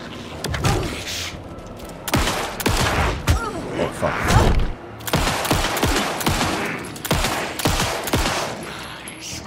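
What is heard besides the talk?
gunshots from the video game Alan Wake 2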